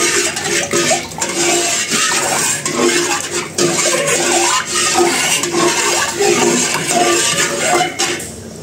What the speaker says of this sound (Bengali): গ্যাস অন করে দিয়ে এখন শুধু এরকম ভাবে নাড়তে হবে